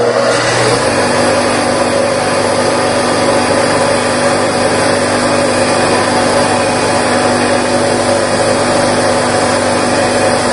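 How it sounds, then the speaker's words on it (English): A drill bores a half-inch hole in the engine pedestal of a spool valve engine, a loud, steady, high-pitched whine that runs unbroken and close for the whole stretch. "we're going to drill a 1/2 inch hole"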